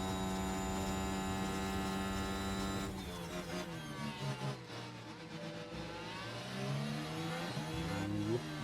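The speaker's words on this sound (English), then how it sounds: "I love the sound of this engine." An F1 car engine in F1 Manager 23, a Red Bull with a Ford power unit, drones at a steady high pitch, then drops as it shifts and climbs again through the revs, loud and alone.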